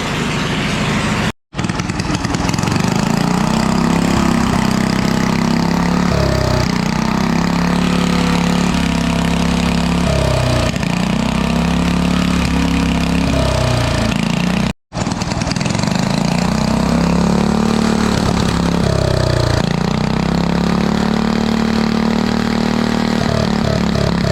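A go-kart engine, modified for more power, runs steadily while warming up, a loud continuous buzzing drone with wavering revs and two very brief cutouts, no talking.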